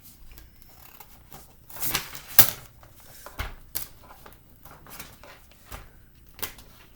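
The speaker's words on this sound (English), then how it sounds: "Let me use the scissors." A few quiet, scattered snips and rustles of scissors cutting fabric, close and soft, with pauses between each cut.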